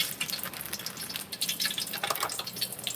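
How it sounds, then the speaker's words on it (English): Water is flicked into hot frying oil for fried smothered chicken, setting off a dense, steady crackle and spatter of sizzling pops that lasts throughout, moderately loud with no talking. "They flick a little water over in there."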